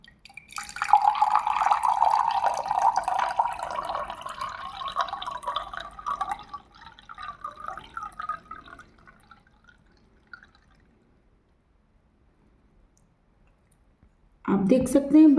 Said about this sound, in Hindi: इसे हमें धीरे धीरे इस ग्लास में डालना है ताकि बालू फिर से इसमें ना मिल जाए